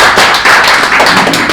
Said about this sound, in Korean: 정말 박수 한번 치세요.